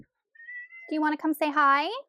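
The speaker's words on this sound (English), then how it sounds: "if you hear my cat meowing in the background," A cat meows clearly up close: one thin sustained cry, then a few bends of meowing that rise and fall, with a person speaking over the later part.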